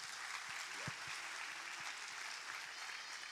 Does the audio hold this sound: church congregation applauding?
yes